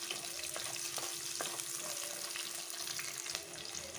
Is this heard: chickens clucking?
no